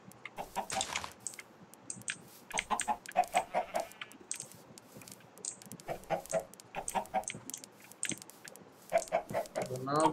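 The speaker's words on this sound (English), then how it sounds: "More chickens." Chickens cluck repeatedly in the video game Minecraft, short bursty clucks in irregular clusters over a quiet background, moderately close and fairly soft.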